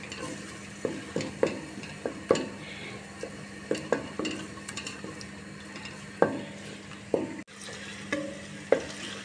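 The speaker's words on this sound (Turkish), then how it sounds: "Salçayı da kavurdum." Red pepper paste fries with sautéed onions in a pan as a spoon stirs it, steady sizzling broken by repeated scraping clinks against the pan, close and moderately loud, no voices.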